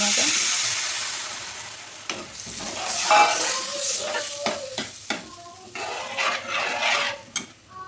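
Chillies and garlic fry in oil in a pan as tamarind juice is added, a close steady sizzle with repeated scraping and clinking stirs of a metal spoon against the pan.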